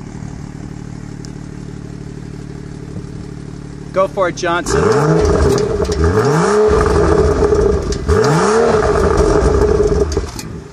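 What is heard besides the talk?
BMW 435 convertible M Performance exhaust revving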